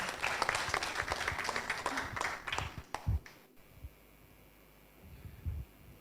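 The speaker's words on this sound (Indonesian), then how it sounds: "Beri aplaus dong." An audience at a business fellowship meeting in Surabaya claps in a brief burst of applause that fades after about three seconds, leaving quiet room tone with a few scattered claps.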